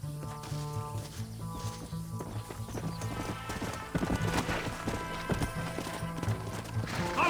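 Horses gallop in the Western video game Red Dead Redemption, rapid clip-clop hoofbeats with a whinny, over a tonal music score.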